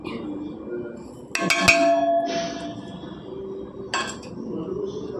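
Salt, chili powder and turmeric stirred into a pot of tamarind broth for Telugu pappu charu, with sharp metallic clinks of a spoon against the pot in a quick cluster, then a lone clink after a pause, over low background noise.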